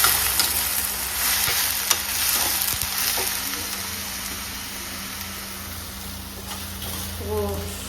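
Ridge gourd stirred and cooked in dal in a home kitchen, with a steady sizzle and a few scraping stirs of a spoon against the pot, under a constant background hum.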